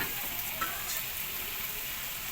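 Tomatoes frying in hot oil, a steady close sizzle and crackle running throughout with a few brief pops.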